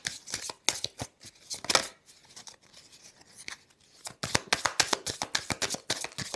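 Tarot cards being shuffled by hand during a reading, crisp rapid riffling bursts, a quieter pause, then another long run of fast snapping shuffles, close and without talk.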